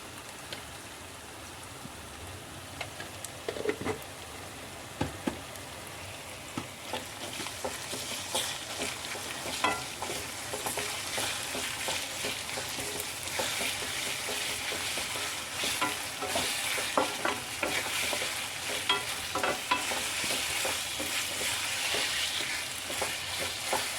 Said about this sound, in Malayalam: നമുക്ക് ഇഞ്ചിയും വെളുത്തുള്ളിയും പേസ്റ്റ് ഇട്ട് കൊടുക്കാം.